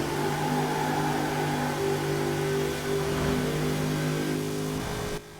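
Jeep Gladiator with a 7.2 litre engine in Forza Horizon 4, droning steadily at high revs with sustained engine harmonics on the motorway, loud and continuous before cutting off at the end.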